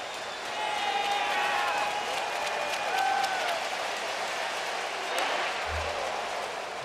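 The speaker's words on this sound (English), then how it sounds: "Now the big crowd in Anaheim will roar as Lackey tries to finish off the 4th." A big stadium crowd in Anaheim roars and applauds steadily at an October 2008 baseball playoff game, a sustained wash of cheering with occasional whistles.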